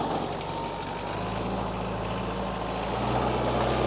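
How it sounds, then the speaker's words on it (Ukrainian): A Kubota tractor engine runs steadily as the tractor turns in place at a dealership, a low continuous hum with a faint droning tone and no talk over it. "Трактор, бачите, на місці розвертається."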